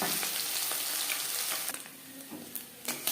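Small mourola fish frying in oil, a steady bright sizzle filling the clip, with occasional soft clinks and stirring noises rising through it and the frying quieting slightly toward the end.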